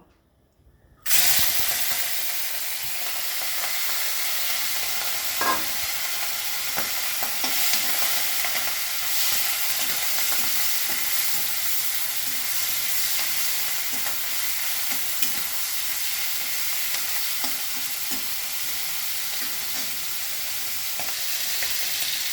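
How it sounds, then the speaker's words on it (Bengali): Steady loud sizzling of shrimp frying in hot oil, a continuous crackling hiss with occasional stirring clicks, no talking. "তেল গরম হয়ে গেছে এবার আমি প্রথমেই চিংড়ি মাছটা ভেজে নেব"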